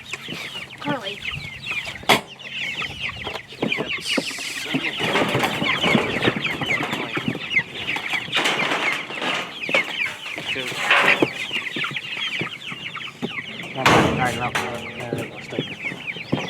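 Homestead chickens cluck and chatter continuously at close range, with some sharper squawks scattered through, while people talk nearby now and then.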